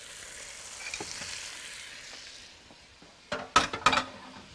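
Fish, crab and shrimp for seafood soup stirred and fried in a pot, a soft steady sizzle followed by several sharp clanks of a utensil against the pot.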